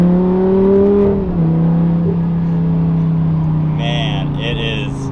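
A repaired, previously crashed Lamborghini drives along with a steady engine drone and shifting tonal hum from inside the cabin, while a voice talks over it.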